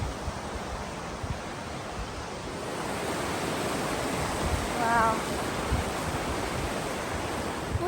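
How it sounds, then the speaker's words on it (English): A river flows beside a dirt road near Benchmark at the end of a Continental Divide Trail thru-hike, a steady broadband rush that builds slightly, with a brief exclaiming voice midway. "Ooh, pretty river."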